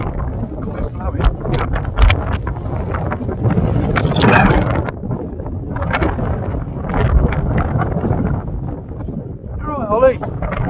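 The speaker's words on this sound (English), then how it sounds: "that's a windy day, isn't it?" Strong wind on a blustery morning walk, roaring and gusting hard against the microphone in continuous loud bursts, with a brief muffled voice near the end.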